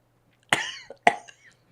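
Two sharp, close coughs break a quiet room, the first a little longer with a short tail and the second following about half a second later, over a faint low hum.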